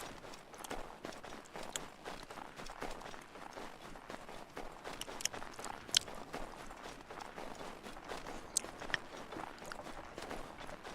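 Rapid running footsteps of a character on foot in Assassin's Creed III, set in Boston, a steady quick patter throughout with a few sharp clicks and no talk.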